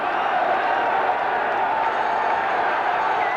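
Steady broad murmur of a large football crowd of just under 20,000 at Millwall's the Den stadium for a second division match against Crystal Palace, a continuous even roar with no distinct cheers.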